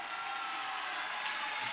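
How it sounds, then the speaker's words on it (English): A crowd at a melee fight event cheers and applauds in a continuous, dense roar of clapping and voices that holds steady throughout. "The crowd getting pumped up."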